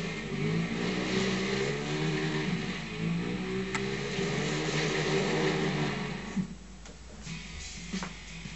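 A vehicle engine in the racing video game Fuel holds a steady mid-pitched drone as it drives, then eases and shifts in its final seconds.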